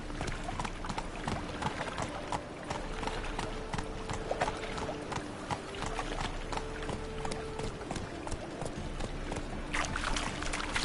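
Roach the horse's hooves clip-clop steadily in The Witcher 3, a continuous close rhythm of hoof strikes over ambient game sound and music.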